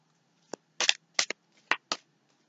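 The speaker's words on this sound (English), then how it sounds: "And don't mind my shuffling. I don't know why I'm shuffling." Tarot cards are shuffled in close, crisp bursts: about five or six sharp riffling snaps separated by brief pauses, loud against an otherwise quiet room.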